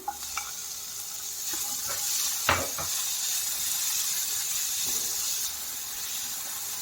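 Capsicum and paneer bhurji frying in a pan: a steady sizzle with a few scrapes and clinks of stirring near the start, close and continuous.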